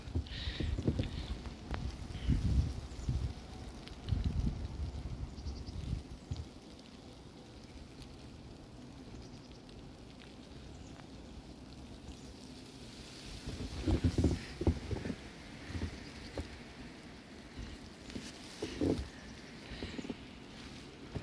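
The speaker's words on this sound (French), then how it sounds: "On entend très bien le vent." Strong wind in a winter snowstorm roars and buffets the microphone in gusty bursts, loud at the start and again toward the end, with a steadier, softer rush in between.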